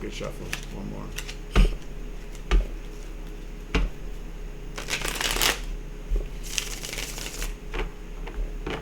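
A deck of tarot cards is shuffled up close: crisp snaps and taps, then longer riffling bursts, with quiet handling noise between them over a low background hum.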